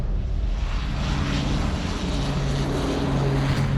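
A helicopter at Sydney Airport, heard as a loud, steady engine and rotor drone that fills the whole stretch, close by and unbroken, with no voices.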